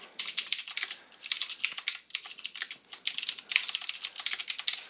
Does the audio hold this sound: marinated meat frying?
no